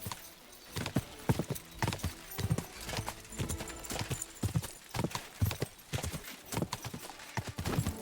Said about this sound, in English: Who needs roads when you got an all-terrain horse?